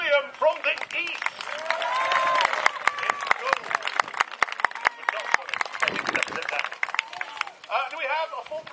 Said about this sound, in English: let's hear a big round of applause for Sir William from the east